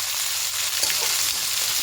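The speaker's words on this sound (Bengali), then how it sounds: "এবার সব কিছু খুব ভালো করে একটু ভেজে দেবো" Chopped vegetables and green peas fry in a pan with a steady, close hiss, a continuous sizzle that runs unbroken and fairly loud throughout, with faint stirring scrapes and no talking.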